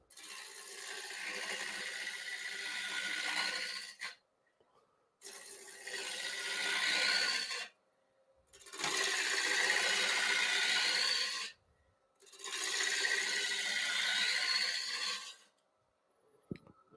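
A woodturning tool cuts into a wood blank on a lathe, its edge used like a skew, giving four loud, rough scraping bursts of about three seconds each, separated by short near-silent pauses.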